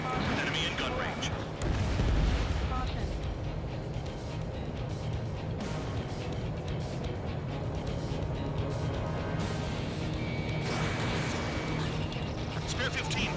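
Aircraft guns and combat noise in a jet combat video game, a dense, continuous roar of rapid gunfire and engine rumble with a heavier burst early on, loud and steady throughout.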